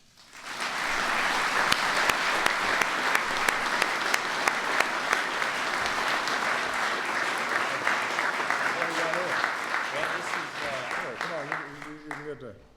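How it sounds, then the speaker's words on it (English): Loud sustained applause from a crowd at a White House event honoring Kyle Busch and the Joe Gibbs Racing No. 18 team, dense clapping with scattered sharp claps that tapers off as a voice begins speaking near the end. "let's give a big round of applause for Kyle, his family, Joe Gibbs Racing, and the entire number 18 team"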